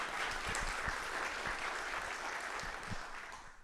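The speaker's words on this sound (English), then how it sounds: "Let's have a round of applause for David and Christine." An audience at an innovation awards keynote applauds steadily, a fairly distant, even wash of many hands that tapers off slightly at the end.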